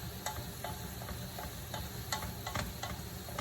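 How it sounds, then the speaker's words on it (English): Spinach sautés in a pan with chili flakes, salt and garlic, a soft continuous sizzle broken by light periodic stirring scrapes, heard fairly quietly with no voices. "Saute spinach with a little chili flakes, salt,"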